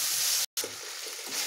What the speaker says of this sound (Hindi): उसी के साथ साथ हम इसमें ऐड कर देंगे शिमला मिर्च कटा हुआ, और इसे अच्छे से मिक्स करके हमें 1 से 2 मिनट तक पका लेना है।